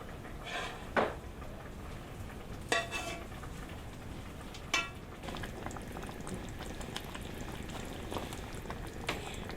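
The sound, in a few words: stew boiling in pot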